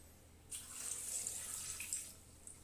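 Water pours into a Thermomix bowl with blood oranges in it, a soft, steady splashing stream lasting about a second and a half before tapering off.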